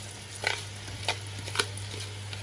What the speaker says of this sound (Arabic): وهنشوح البصله كده لحد ما تاخد لما تدبل معايا بس